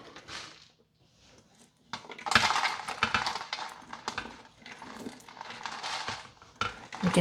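Baked caramel puff corn is stirred and spread across metal cookie sheets, giving crunchy, rattling scrapes and light clinks in uneven bursts, quiet at first and then busier and closer.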